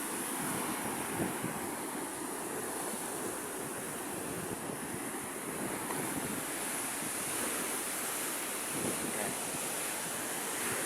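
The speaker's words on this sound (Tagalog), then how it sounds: "Malakas yung alon ngayon" Heavy sea surf pounds steadily against a seawall, a continuous loud wash of breaking waves mixed with gusting wind buffeting the microphone, no voices.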